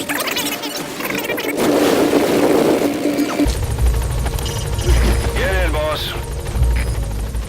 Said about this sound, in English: Put Code Talker in the chopper and return to base.